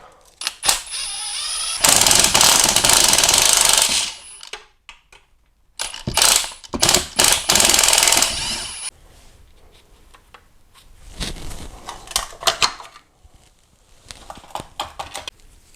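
Hand tools clatter and ratchet while the lower timing cover is removed from a VW Bora 1.6L AKL/AEH engine. Bursts of metallic clinking and ratcheting come close up in uneven clusters, separated by quiet gaps.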